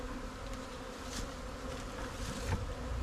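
Bees from a rescued colony, taken from a tree, hum in a steady, dense buzz close by at a hive opened for frame work, holding level throughout with no talking.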